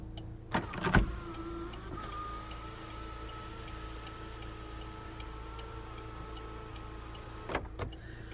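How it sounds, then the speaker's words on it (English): An electric car sunroof opens with a faint, steady motor hum lasting several seconds, with soft clicks at the start and end of the travel. "I'll pop the sunroof."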